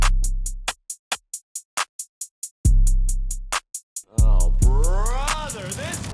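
Stiff programmed drum beat lacking bounce: a run of short, evenly spaced clipped hits with booming low kicks, then a swelling sustained tone with sweeping pitch over the hits near the end, loud and with no talk.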